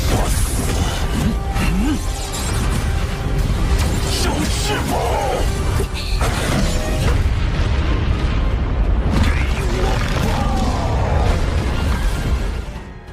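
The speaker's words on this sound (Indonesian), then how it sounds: "Ledakan yang tercipta darinya begitu besar." A huge explosion in an animated series, a loud, sustained roaring blast with dense rumbling and crackling debris that continues for over twelve seconds without letting up.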